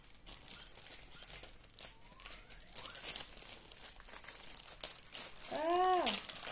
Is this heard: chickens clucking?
no